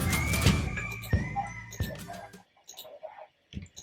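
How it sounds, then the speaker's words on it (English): Farmyard chickens clucking inside the MoonBase Alpha video game, a few short bursts of fowl calls with a brief crow-like note, fairly close and clear with no talk over them. "we have 7 chickens right now"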